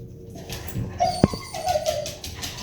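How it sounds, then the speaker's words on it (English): A dog outside gives a few short, high whimpering whines with one sharp bark-like yip midway, faint and fairly distant over low background noise. "there's a dog outside that she hasn't met before"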